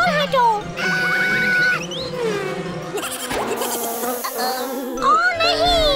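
Cartoon bees buzz in a busy, music-filled scene, a steady insect drone running throughout while characters speak over it.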